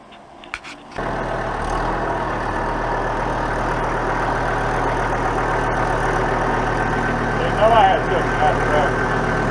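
A truck engine starts up after a second of quiet and then idles steadily, a close, low, continuous drone while a boat trailer is moved. Voices talk briefly over it near the end.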